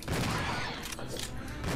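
Dense, rapid gunfire and booming shots from the video game Resident Evil 0 fill a short, loud burst of continuous combat sound.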